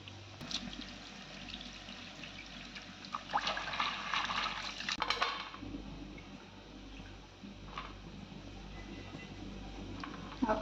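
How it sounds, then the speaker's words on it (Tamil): Water splashes and trickles as dried fish is washed by hand in a bowl in a home kitchen, a faint, intermittent sloshing and dribbling with brief louder splashes and no talk. "இதை அப்படியே இதில் போட்டு தண்ணி ஊற்றி வாஷ் பண்ணி எடுத்துக்கலாம்."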